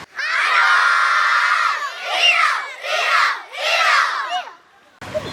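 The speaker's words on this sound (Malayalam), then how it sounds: "എവിടെന്നാണ് ഈ ആർപ്പുവിളി കേൾക്കുന്നത്?" A school crowd at an Onam celebration cheers and shouts, with children's voices in long loud bursts: one sustained roar, then three shorter swells before the noise drops away.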